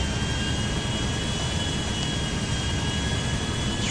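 A video-game airplane taking off on a runway, a steady loud jet engine roar with a constant high whine running throughout.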